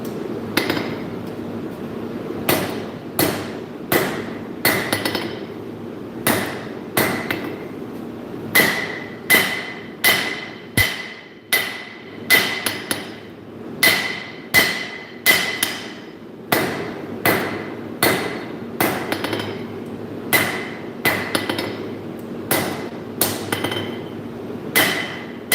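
Steady hammer blows on hot metal at a forge, struck in quick rhythmic groups with short pauses between, close and loud with sharp ringing strikes over a low background hum.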